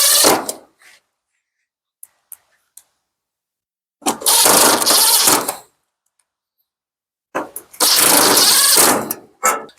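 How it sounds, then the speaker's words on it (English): A power screwdriver drives screws back into a Samsung dryer panel in two loud, whirring bursts a few seconds apart, each followed by quiet, with a short buzz at the very start. "We'll put these 4 screws back in place."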